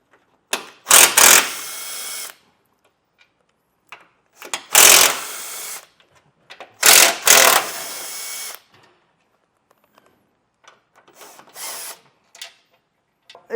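Bumper beam bolts on a 2025 Buick being removed with a 15 mm socket on a power tool, several short loud whirring bursts separated by pauses, with a few fainter bursts near the end.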